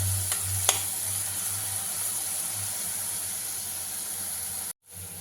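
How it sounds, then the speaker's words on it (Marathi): Green chillies frying in hot oil give a steady, bright hiss throughout with a couple of early clicks, close up and without speech before a brief cut near the end. "मिरची चांगली तेलामध्ये भाजून द्यायची"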